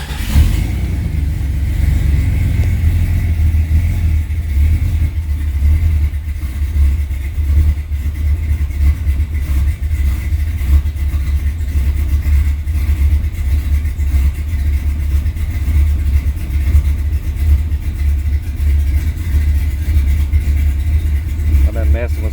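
Supercharged Jeep XJ engine running on E85, heard close and loud as a continuous deep rumble with steady idle and mild revving throughout, with a voice talking over it.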